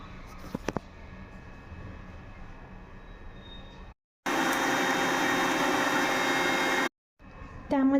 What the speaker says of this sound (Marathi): ते आता आपण मिक्सरमधून काढून घेऊया.